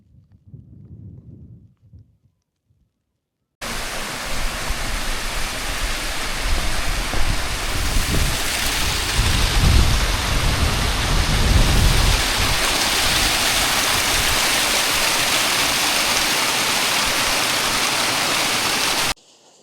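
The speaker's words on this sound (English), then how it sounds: "I thought I'd stop and show you this little waterfall, which is always intriguing" A small waterfall beside a road in the Nant Ffrancon Valley roars as a loud, steady broadband rush after a brief quieter stretch, continuing unbroken for over fifteen seconds.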